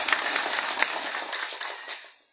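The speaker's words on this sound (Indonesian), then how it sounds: "Kita berikan tepuk tangan Bapak Ibu dan saudara-saudara" A crowd claps at an outdoor political rally in Mehang Mata, Paberiwai district, a dense patter of applause that holds briefly and then fades out over about two seconds.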